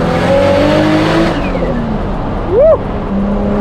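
A Toyota Supra driving on the road, its engine droning under load, then easing off as the note falls away, with a brief higher swooping whine near the end; close and loud, no talk.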